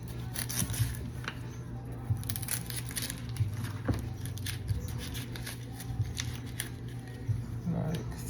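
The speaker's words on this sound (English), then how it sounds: "Chop and peel them." Shallots being chopped and peeled by hand in a home kitchen: a steady run of small crisp cuts, crinkles and rustles, close and moderately quiet over a faint constant hum, with no clear speech.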